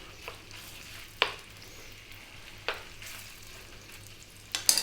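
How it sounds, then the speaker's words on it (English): Small-cut cubed beef frying in a pan for a Greek tomato stew, a steady close sizzle broken by a few sharp clacks and scrapes of pieces being dropped in and stirred. "We're going to just be dropping in our lovely cubed beef."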